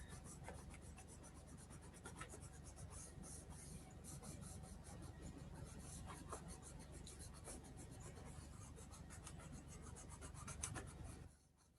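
Colored pencil is rubbed across paper to color in a drawing, giving a soft, continuous scratchy shading sound for about twelve seconds. The sound is faint and close, with no talking.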